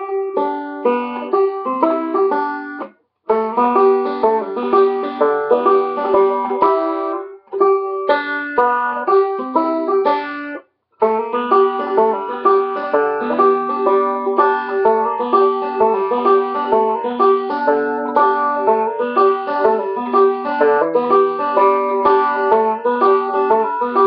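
Cripple Creek is played in a swung, bouncy version from Hal Leonard book one on a single plucked instrument, a steady run of bright notes lasting about twenty seconds with a few brief pauses.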